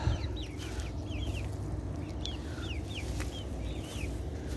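Chickens cluck and chirp in a backyard coop with repeated short calls close by over a constant low background hum. No one talks.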